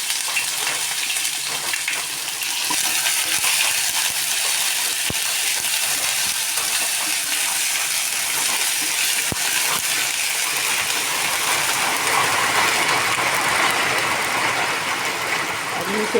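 Crushed ginger and garlic go into a hot pan, giving a loud, steady, rain-like sizzle that continues without a break through the whole stretch.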